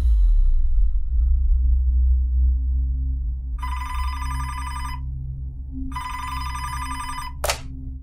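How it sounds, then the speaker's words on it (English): A telephone bell rings twice in clear, evenly spaced bursts over a low background hum, followed by a short sharp click. "Detective Alan Lead grabbed the phone on the second ring"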